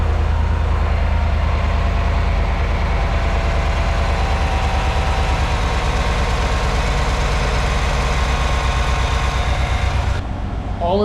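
A 2015–2020 Cadillac Escalade with a 6.2L engine idles after an oil change, giving a smooth, steady low hum up close that holds evenly before changing slightly right at the end.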